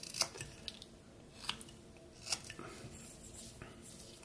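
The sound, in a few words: knife carving stop cut in wood while whittling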